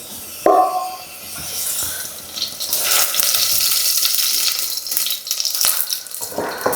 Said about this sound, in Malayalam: ഇതിനകത്ത് കുറച്ച് വെളിച്ചെണ്ണ ഒഴിക്കുക.